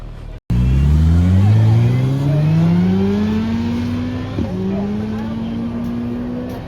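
A motorcycle speeds through the timing traps at the El Mirage dry lake land speed race, its engine note climbing steadily in pitch as it accelerates, loud and close before fading slightly into the distance.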